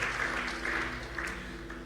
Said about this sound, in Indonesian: Kita beri tepuk tangan dulu buat Tuhan Yesus